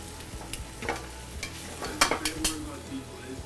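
Garlic and monkfish fry in a pan that gets shaken, giving a steady close sizzle broken by scraping, clattering bursts as the pan moves, with no talking.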